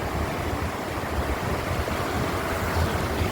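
Flash-flood water rushes down from a mountain in a steady, dense roar, broadband and unbroken, with no voices over it.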